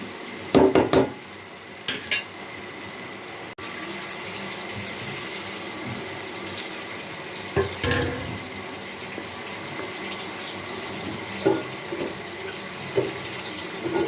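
Water goes into a pan of hilsa fish curry, with a steady running, bubbling wash throughout, broken by several close clattering knocks and clinks of a utensil against the pan.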